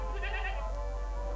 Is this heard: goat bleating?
yes